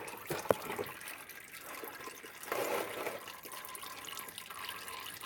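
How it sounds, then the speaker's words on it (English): Engine oil trickling steadily from a loosened drain plug on a Chevy 5.7 oil pan into a catch container, a continuous close liquid pour that swells briefly partway through. "Let it drain like that for a few minutes until it's about done"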